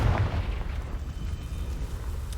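Confringo blasting spell in the video game Hogwarts Legacy, a loud booming explosion with a rumbling, crackling tail that stays heavy and sustained.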